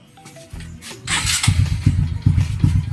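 A Honda RS 125 motorcycle is kicked over and its small engine catches, settling into a loud, choppy, uneven putter close by.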